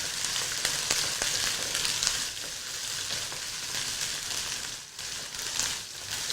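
Prawn biryani ingredients, including green chillies, frying in a pan: a steady, close sizzle with crackle and occasional stirring scrapes throughout, without speech.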